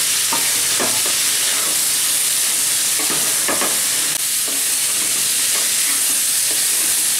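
Bhagon fish curry frying in a pan in a Bengali-style kitchen, a steady loud sizzle with repeated stirring scrapes across the whole stretch, no voices.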